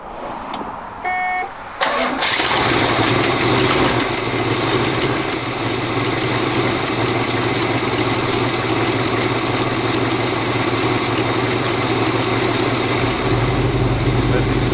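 A 1969 Oldsmobile Ninety Eight convertible V8 engine cranks and catches, then settles into a loud, steady idle heard up close throughout.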